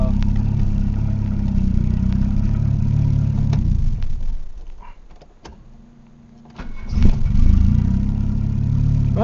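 Engine of a 1987 Charger running, a steady low rumble that drops away briefly midway and then comes back louder, with no clear speech.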